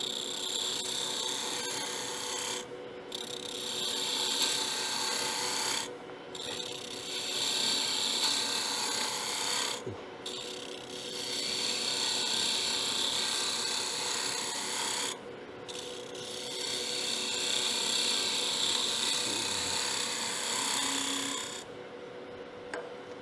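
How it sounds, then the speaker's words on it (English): A spindle roughing gouge shears across a wooden box blank spinning on a lathe, giving a steady, loud rasping hiss broken by four short gaps where the tool lifts off, with no talk. "So that's the first cut I'm going to make on the outside. Spindle roughing gouge, anchor,"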